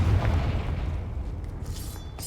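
A Confringo blasting spell explodes in the Hogwarts Legacy video game, a loud deep boom with a rumbling low tail that fades over about two seconds.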